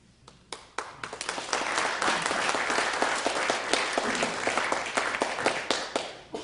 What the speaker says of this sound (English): Don't clap too loud.